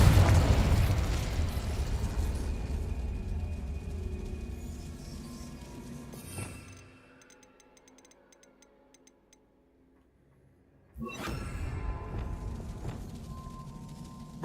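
Confringo fire spell from Hogwarts Legacy, a loud rumbling blast that fades over several seconds, then near silence before another burst of game noise.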